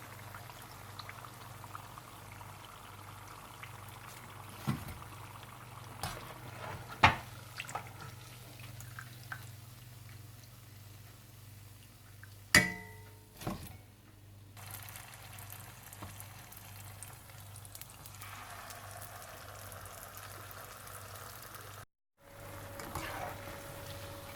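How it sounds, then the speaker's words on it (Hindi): Dates being deep-fried in oil for fritters, a low bubbling boil with scattered pops, clinks and handling knocks, a brief dropout near the end, no speech. "इसी तरह से आप सारी खजूरें तल लें।"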